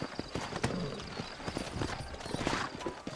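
Horse hooves clip-clop at a steady trot in the video game Red Dead Redemption, several animals close by, with an occasional snort or whinny mixed in.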